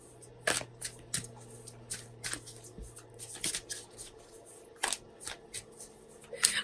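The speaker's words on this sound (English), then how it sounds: "I'm shuffling our Sacred Traveler Oracle cards" A deck of Sacred Traveler Oracle cards is shuffled by hand in a series of crisp riffling bursts and soft slaps, irregularly spaced, close and fairly quiet, with no voices.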